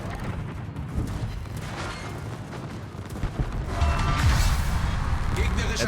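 Naval guns firing HE shells in World of Warships, booming salvos and mechanical clanks over a constant battle rumble that grows louder toward the end, with a voice talking.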